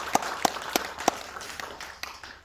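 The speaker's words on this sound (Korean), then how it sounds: "우리 박수로 격려해 주시기 바랍니다." A church congregation claps, a handful of sharp distinct claps at first followed by lighter scattered clapping that thins out.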